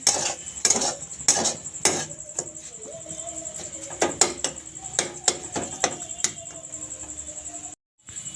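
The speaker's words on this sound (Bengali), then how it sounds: "এটাকে নাড়াচাড়া করে নেবো বেশ কিছুক্ষণ" A spoon clinks and scrapes sharply against a pot while sugar and cardamom powder are stirred into a sandesh mixture, giving irregular, fairly close metallic taps and brief pauses.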